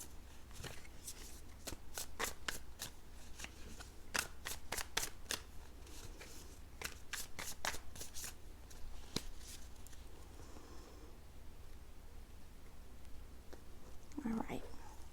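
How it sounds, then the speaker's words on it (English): Tarot cards being shuffled by hand, a series of crisp riffling flicks and soft slides in a quiet room, fairly close and moderately loud, with a low background hum throughout. "I'm going to give these cards another little shuffle"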